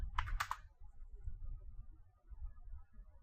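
A few quick, quiet clicks of typing on a computer keyboard come at the very start, followed by faint low background noise.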